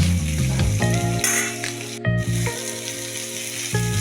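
Hot water hits frying spice masala in a pan for a rohu fish curry, setting off a loud, close sizzle that bubbles on steadily with a low hum beneath.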